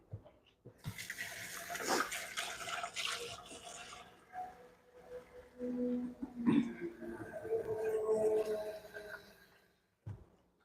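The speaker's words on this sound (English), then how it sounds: "So now I'm going to add water for the cooking." Water poured into a cooking pot while making Nigerian jollof rice, a steady splashing, running pour that swells and fades over several seconds, close by, with no talk.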